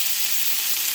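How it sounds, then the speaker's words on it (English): Burger patties frying in a cast iron skillet over medium-low heat, a steady, even, close-up sizzle with no breaks and no voices. "Got my saute pan on a medium-low heat. Let's give these a flip."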